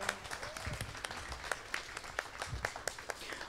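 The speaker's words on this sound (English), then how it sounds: "Can we give them a round of applause?" Guests at a wedding ceremony applaud the couple with quiet, scattered clapping that sounds somewhat distant, irregular claps over a faint room murmur.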